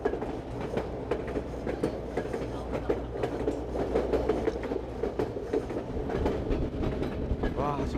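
A Yukon Route railway train rolls along steadily, with a continuous low rumble and rhythmic clickety-clack of wheels on rails and a brief squeal near the end; no one speaks.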